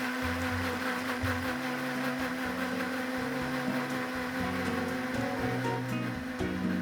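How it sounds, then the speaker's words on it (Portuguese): A blender beating eggs with salt whirs steadily and loudly throughout, with a constant mechanical drone and shifting low rumble, no voices over it. "enquanto o liquidificador trabalha, a gente não ouve nada"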